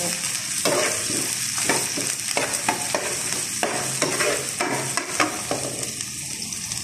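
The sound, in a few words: onion and garlic being stirred and sautéed in a pan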